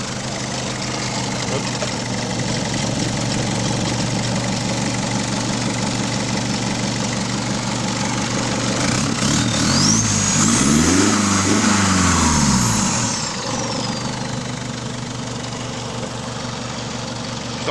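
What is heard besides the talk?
Mercedes 220 CDI diesel engine started and idling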